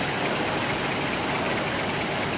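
A TAILG electric bike's motor spins steadily after the throttle is turned, a continuous whirring hum with broadband hiss that stays loud and even throughout, with no voices.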